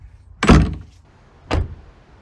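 A door on a newly built chicken coop swings and shuts in two solid, close thuds about a second apart, with quiet outdoor air between them.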